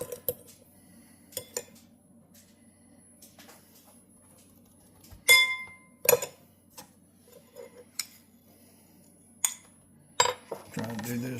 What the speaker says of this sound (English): we're going to mix up our olive oil